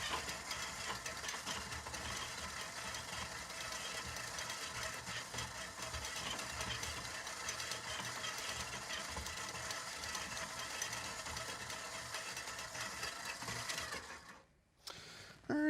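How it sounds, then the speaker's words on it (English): An electric mixer creams fat such as lard at medium speed, giving a steady, close mechanical whir with a constant motor drone and slight rattling that runs unbroken for about fourteen seconds, then drops away briefly before starting again. "I'm now going to mix my fat just to get it broken down a bit, using about a medium speed on my mixer."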